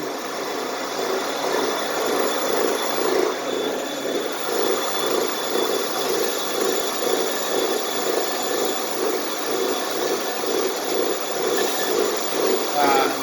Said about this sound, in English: Now I'm starting off using steel just to get a lot of the carbon buildup off of it